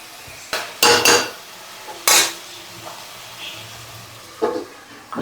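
Chicken frying with curry leaves in a pan, heard as a soft background sizzle under a few loud, sharp stirring scrapes and clanks of a utensil against the pan, with quiet gaps between them.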